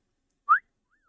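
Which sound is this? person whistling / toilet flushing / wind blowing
person whistling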